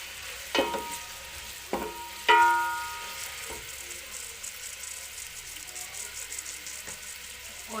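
Food frying in oil in a home kitchen, a soft steady sizzle broken by a few sharp clinks of a utensil against the pan early on, with faint talk in the background.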